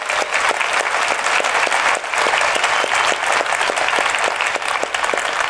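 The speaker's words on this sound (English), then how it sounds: "Let's give them a big round of applause." Sustained applause from a large audience at the DEF CON 20 hacking conference, a dense, steady wash of many hands clapping that carries on evenly and loudly throughout, with no voices heard.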